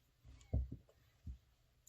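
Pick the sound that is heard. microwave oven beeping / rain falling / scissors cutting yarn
scissors cutting yarn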